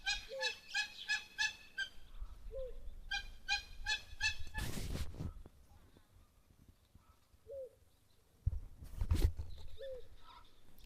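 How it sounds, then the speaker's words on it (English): Repeated loud honking calls of a hammerkop at a waterhole, coming in quick rhythmic bursts with soft cooing and other birds in the background, plus a couple of rushing gusts. "You can actually hear the hammerkop calling now."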